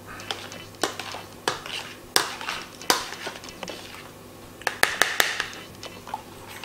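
Pizza dough mixture stirred in a bowl, heard as a run of sharp clinks and taps of a utensil against the bowl at an uneven rhythm, close and fairly light.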